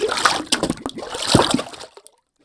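Recorded water-drop sounds from a sample library: a quick series of wet splashes, plops and sloshes, close and dry, with uneven bursts that trail off into silence near the end.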